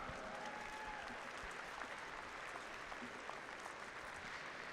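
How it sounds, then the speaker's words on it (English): Sustained applause from a crowd at an indoor archery national championship, steady dense clapping throughout with a faint background murmur. "Give them a big round of applause one more time."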